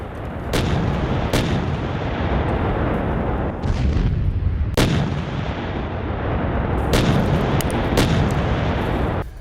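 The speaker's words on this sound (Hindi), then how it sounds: "हॉप्जियर ने एक के बाद एक 2 टारगेट नष्ट किए" Howitzer artillery fire from a Ukrainian attack, heard as a series of loud, sharp booms over a continuous roaring, rumbling background, with about five or six distinct blasts spread across the stretch.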